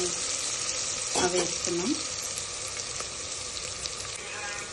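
Sliced onions and green chillies for chicken pulao fry in a pan with a steady, even sizzle that lasts throughout, close by, while a voice speaks briefly over it.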